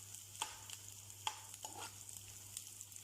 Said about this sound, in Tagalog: After sauteing now your onion, now it's brownish in color, your garlic and onion.